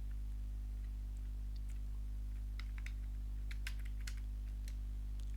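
Computer keyboard keys tapped in short irregular bursts while an email address is entered, faint clicks over a steady low electrical hum, no talking.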